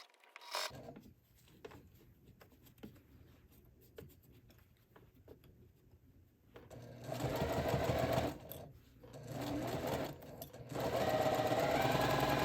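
A sewing machine stitches around the edge of a zipper pouch, quiet stretches of slow feeding broken by loud, steady runs of close-up machine whirring that start and stop several times.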